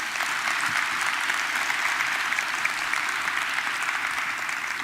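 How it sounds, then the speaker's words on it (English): Sustained audience applause fills a hall at the high-level panel session of Global Conference 2022. The dense, even clapping carries on for several seconds with no voices over it. "can we give them a round of applause"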